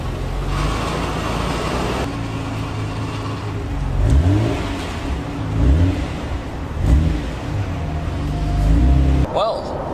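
A Nissan Skyline GTR R34 V-Spec II engine revving in repeated short blips over a steady idle, fairly close and loud, with a voice talking over part of it.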